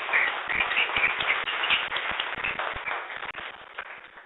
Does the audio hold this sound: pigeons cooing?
no